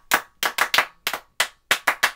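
Sharp, distinct hand claps ring out about nine times in a bouncy, slightly uneven rhythm, each crisp and close with brief silence between, from a kids' show crowd.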